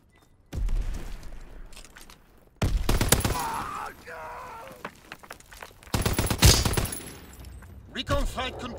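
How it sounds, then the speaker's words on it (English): Aircraft strafing-run machine gun fire in the Call of Duty: WWII video game arrives in several loud rattling bursts separated by quieter gaps, with faint game voices in between. "Strafing run inbound."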